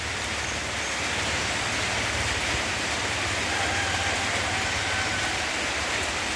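Heavy rain pours steadily through the night in rural Thailand, a loud, dense and unbroken hiss that fills the whole stretch with no voices.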